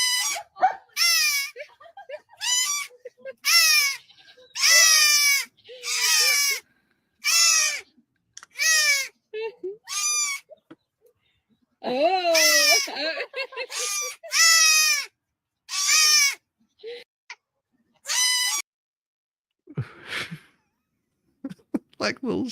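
Baby goats bleat repeatedly in short, loud, high cries, several overlapping or in quick succession, with brief pauses between calls and a few fainter rustles near the end.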